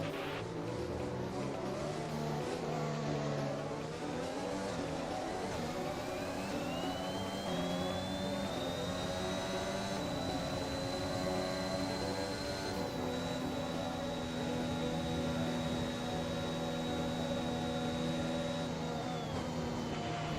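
Formula 1 race car engine in the F1 2021 racing game, Toro Rosso Red Bull at the Italy round, revving high and climbing through the gears in long rising whines, loud and continuous with no talking.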